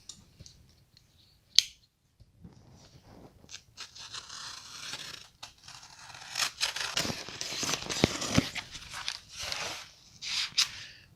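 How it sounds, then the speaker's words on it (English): A cardboard box being cut open with a knife or blade, giving scattered close scraping, slicing and tearing sounds with crinkles and thumps that grow busier toward the end. "I'm going to cut open this box and I'll show you what I got."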